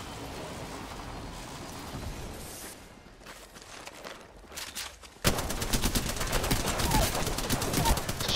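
Rapid bursts of gunfire in a video game firefight, muffled and distant at first, then abruptly erupting into loud, dense sustained automatic fire for the final three seconds.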